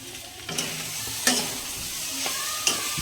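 Soybeans frying in a pan with onion and tomato, a steady soft sizzle with a few brief sharper scrapes of stirring at intervals, close by with no voices.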